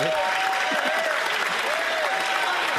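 Steady applause and clapping fills a parliamentary chamber during Question Period, dense and continuous throughout with a faint murmur of voices mixed beneath it.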